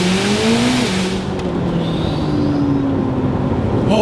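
A 2026 Corvette ZR1X, a hybrid with an electric motor and turbocharged combustion engine, accelerates hard. The loud engine roar climbs in pitch through the gears, with a brief dip at a shift.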